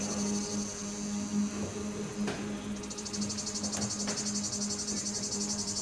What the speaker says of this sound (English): the mating call of other cicadas